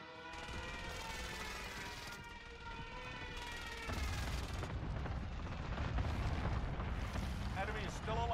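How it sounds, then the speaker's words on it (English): Heavy airstrike explosions in a military shooter video game, a continuous loud rumbling barrage with crashing blasts growing stronger midway, while harmonic whining tones and voices run throughout. "Send the airstrike here"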